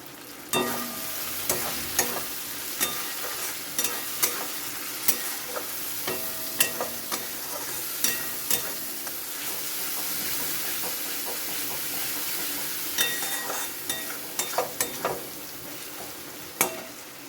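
Coriander-cumin spice frying in oil for a fish curry, stirred in a pan: a constant bright sizzle punctuated by repeated clinks and scrapes of the spatula, loud and nearby with no voices.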